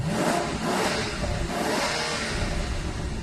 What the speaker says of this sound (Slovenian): Čak malo komentar, kako ni glasen, saj V12.